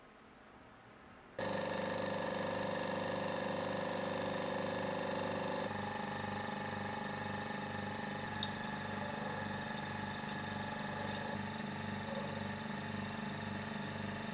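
A vacuum pump in a chemistry setup draws air through a filter to dry solid crystals. It starts abruptly after a quiet moment and then runs as a loud, steady mechanical hum with a pulsing throb, and no one talks.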